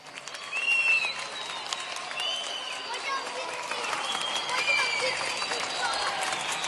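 Applause and cheering from a crowd of students as a 65-year-old retiring teacher leaves her last lesson, a steady dense wash of clapping and shouts with a few whistles rising over it.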